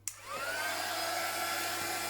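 A crafting heat tool switches on with a click and blows hot air steadily, a loud, close, continuous whirring hiss with a faint whine, used on a Christmas junk journal project.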